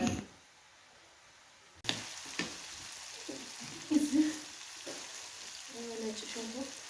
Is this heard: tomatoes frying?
yes